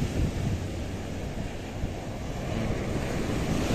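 Ocean waves wash onto a shore in a steady, broad rushing roar mixed with wind buffeting the microphone, continuous and fairly loud with no voices over it.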